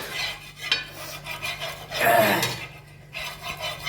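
Metal scraping and rasping against a new griddle pan, steady and close, with a louder scraping burst midway and faint clinks.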